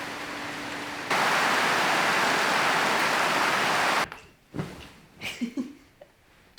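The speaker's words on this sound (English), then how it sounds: "Randomly started raining." Steady broadband hiss of rain falling on K'gari (Fraser Island), Australia, loud and continuous for a few seconds before cutting off abruptly, followed by scattered softer knocks and rustles.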